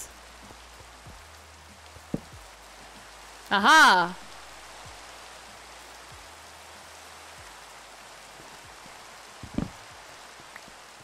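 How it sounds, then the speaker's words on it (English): Heavy rain in the video game Minecraft, a steady soft hiss throughout, briefly interrupted by a short exclaiming voice near the middle. "Okay, so this is rain. Oh my goodness. This rain is"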